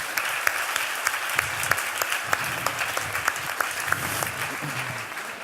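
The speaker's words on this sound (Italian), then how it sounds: "Fate un applauso per favore." Audience clapping at an Italian psychology innovation award final, an even patter of many hands with a few sharper individual claps standing out, moderately close, while faint voices murmur beneath.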